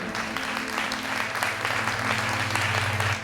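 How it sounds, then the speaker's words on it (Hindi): A church congregation claps loudly and continuously, a dense, sustained burst of applause filling the room for a few seconds. "जोरदार तालियों के साथ परमेश्वर का धन्यवाद करें।"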